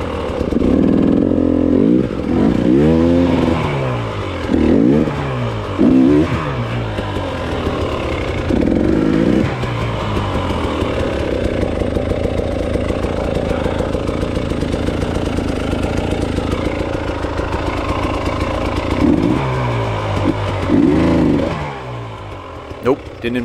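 An enduro motorcycle stuck in a hole on a hill revs hard in repeated loud, close bursts, its engine note swooping up and down between brief drops toward idle.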